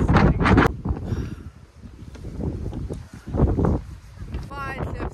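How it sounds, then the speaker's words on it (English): Strong gusting wind at the Cliffs of Moher in Ireland buffets the microphone in heavy, uneven bursts, with people talking underneath. "the wind here is striking. So yeah, the wind is crazy"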